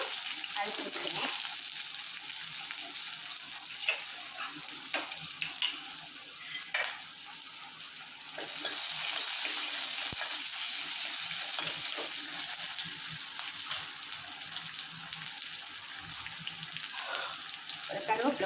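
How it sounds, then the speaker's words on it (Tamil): Mustard seeds, urad dal and sliced small onions sizzle and crackle steadily in hot oil for a South Indian meal, a continuous close frying hiss with scattered pops throughout. "இப்போ கொஞ்சம் கடுகு போட்டுக்கிறேன், கொஞ்சம் உளுந்தம் பருப்பு போட்டுக்கிறேன், கொஞ்சம் வெங்காயம் போட்டுக்கிறேன்."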